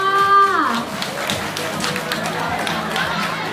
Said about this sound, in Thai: ขอเสียงปรบมือให้กับคุณซานี่หน่อยค่ะ